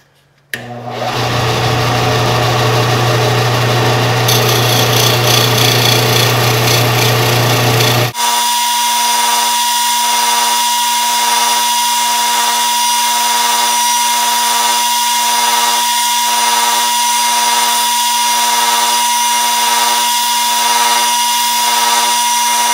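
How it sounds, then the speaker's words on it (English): A power sander works on model airplane control horns for a yellow F-16 build, first a rough grinding burst, then a steady high-pitched motor whine with a pulsing rhythm that holds loud and close throughout, no talk. "we're going to use the sander here to try to speed things up"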